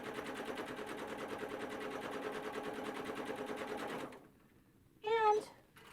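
Sewing machine stitching along a line with white thread, a close, rapid, even stitching chatter for about four seconds, then stopping, followed by a short sharp squeak.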